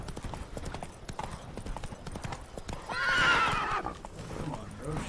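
A horse's hooves clip-clop steadily in The Witcher 3: Blood and Wine, set in Toussaint on a misty evening, and a clear whinny rings out partway through, fairly faint and close, with no talk.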